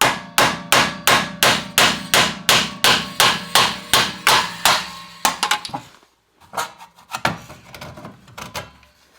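On a Vanagon rear hub, a hammer drives out a pin with about fifteen loud, evenly spaced metallic blows, followed by a few quieter, irregular taps and knocks, close up and without talk.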